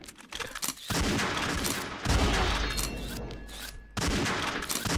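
Bursts of gunfire from the XSHOT shooter video game, with an old sniper rifle in a deathmatch, crackle loudly in dense volleys separated by brief pauses, with no voices heard.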